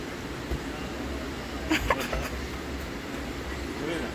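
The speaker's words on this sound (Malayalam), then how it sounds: "ട്രെയിൻ ഇപ്പോൾ പോകുന്നു" A train passing at night makes a low, steady rumble at some distance, with brief rattling near the middle and people talking over it.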